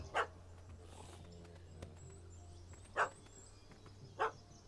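Dog barking in The Witcher 3 video game, three short sharp barks spaced a few seconds apart over a low steady ambient hum.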